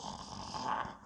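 The Gruffalo snoring in a children's story reading, a single soft, low rumbling snore heard faintly and briefly on its own.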